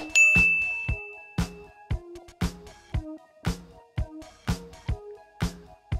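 A notification bell sound effect rings out in a quick repeating series of bright, clean dings, each one sharp and ringing briefly before the next, evenly spaced and close.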